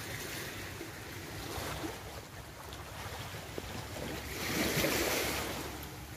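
Ocean waves wash ashore at Pulau Panjang beach in Pasaman Barat in the morning, a soft continuous surf with gentle swells and light wind noise, fairly distant and without voices.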